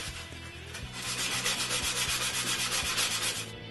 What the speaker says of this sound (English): The side is sanded by hand.